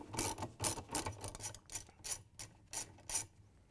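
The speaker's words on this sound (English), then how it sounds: "To get the agitator bolt out, we're going to use a 7/16" socket with the extension and a ratchet." A ratchet with a 7/16-inch socket and extension loosening the agitator bolt of a Whirlpool washing machine, a series of quick ratcheting clicks in regular bursts, close and fairly quiet, with no speech.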